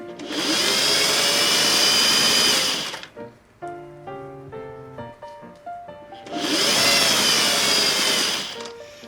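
A sewing machine basting a zipper runs in two loud, close bursts of steady high whirring stitching, separated by a quieter stretch of light clicks and knocks as the fabric is handled.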